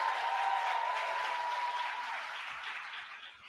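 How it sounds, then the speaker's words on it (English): Audience applause at a vice-presidential economic opportunity event in Charlotte, a steady crowd clapping that slowly tapers off toward the end, with a faint tonal hum beneath it. "Can we please applaud Desmond as he walks off the stage?"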